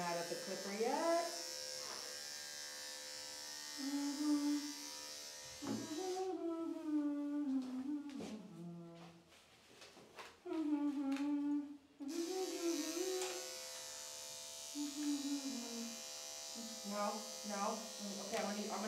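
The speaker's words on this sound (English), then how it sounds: "Don't get mad at the clipper yet." Electric clippers buzz steadily while grooming an aggressive Shih Tzu, the motor drone running throughout with voices and whiny vocal sounds layered over it, pausing briefly partway.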